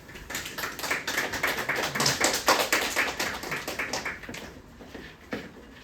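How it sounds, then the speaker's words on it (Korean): An audience in a school admissions briefing hall claps steadily for several seconds to welcome an English teacher, a dense patter of many hands that tapers off near the end. "박수로 맞이해 주시죠"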